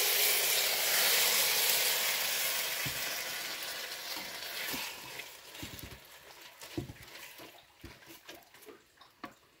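Guajillo chili frying in a hot clay cazuela: a loud, dense sizzle at the start that gradually fades, with scattered utensil clicks and scrapes toward the end, no voices.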